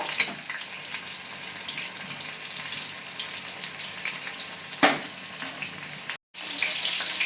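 Chicken pakora pieces fry in hot oil with a steady, close crackling sizzle. A brief dropout comes near the end before the sizzling resumes.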